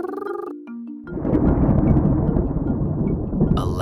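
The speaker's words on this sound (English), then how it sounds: "A loud thunder interrupts their water fun." Loud thunder rumbles in a sudden dense roar after a short musical jingle, a broad heavy crash sustained for a few seconds over a playful water scene in an animated story.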